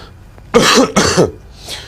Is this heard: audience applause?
no